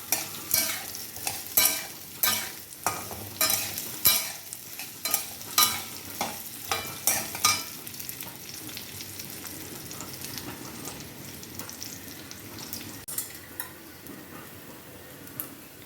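A spatula scrapes and turns raw banana pieces in a frying pan, a regular series of close scraping strokes over a faint sizzle that thin out into lighter, quieter stirring later.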